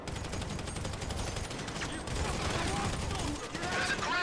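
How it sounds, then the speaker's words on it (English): Gunfire in a Grand Theft Auto V shootout, a dense, continuous rattle of rapid shots beneath a busy mix of other game sounds, steady and fairly loud throughout. "So I guess we shoot our way out of here!"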